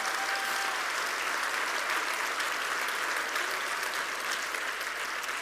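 An audience at a business awards ceremony in Creuse applauds, and dense, steady clapping fills the room at an even level throughout.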